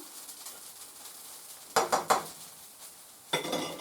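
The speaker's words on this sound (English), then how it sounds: "right now what I'm doing is I'm just browning the hash browns a little bit" Hash browns browning in a pan give a soft background sizzle, broken by a few sharp spatula scrapes and a later burst of stirring.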